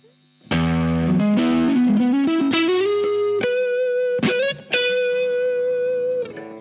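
Electric guitar on the neck pickup runs through a DOD OD/PRE 250 overdrive, giving a distorted, sustained riff of rising notes and ringing chords, loud and close, that trails off at the end.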